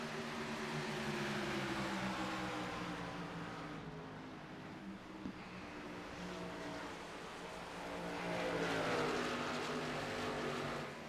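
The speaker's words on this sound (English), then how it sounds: "I'm going to stay low here and let all these cars pass." Race cars in the iRacing video game roar past on an oval track, a steady engine drone with overlapping passes that swells louder near the end, no talking.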